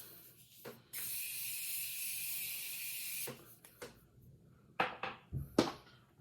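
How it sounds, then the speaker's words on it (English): Makeup setting spray misted from a pump bottle, one long hiss lasting about two seconds, close and clear, followed by faint tapping and handling noises. "we're gonna do our last spritz"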